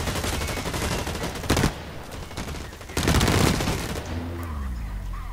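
Incendiary-bullet gunfire in the online shooter Blacklight Retribution: loud, close bursts of rapid automatic fire, broken by short pauses, with a final burst trailing off into lower game noise.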